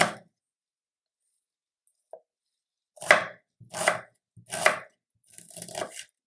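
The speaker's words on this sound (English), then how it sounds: "If you slice it like this, then this is for the Chinese style slice." A kitchen knife slices an onion Chinese style on a cutting board, one isolated cut and then four crisp, evenly spaced slicing strokes, close and clear against silence.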